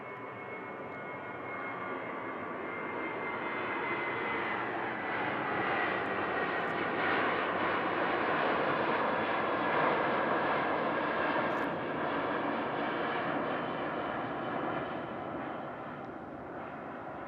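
Ryanair passenger jet taking off at Manchester Airport, a broad continuous engine roar that swells to a peak mid-way and slowly eases, steady and fairly loud with no voices.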